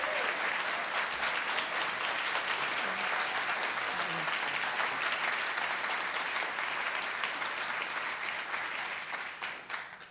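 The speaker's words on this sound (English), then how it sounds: "Can we please give them a round of applause?" An audience applauds storytellers at a live storytelling event, with dense, steady clapping that carries on for about ten seconds and tapers slightly at the end.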